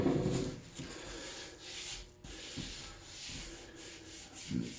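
A small Bailey hand plane swipes across a timber-framed table base, giving several separate rasping, scraping strokes with short gaps between them, close and fairly quiet.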